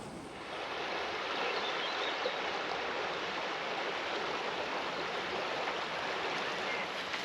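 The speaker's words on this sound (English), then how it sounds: "We've come down and reached the river, I think Coquet it's called" The River Coquet in Northumberland rushes steadily after heavy rain, a continuous broadband wash of flowing water heard close and fairly loud, with no voices over it.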